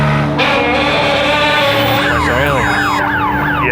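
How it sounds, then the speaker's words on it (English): A balance machine emits a loud siren-like warning tone, a steady blaring wail that turns into rapid rising and falling electronic sweeps, continuous and close over a background hum. "If it starts going like a siren sound"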